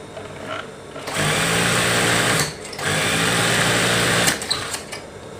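Sewing machine hemming bed sheet fabric, running in two steady continuous bursts with a short pause between, close and loud with no talk.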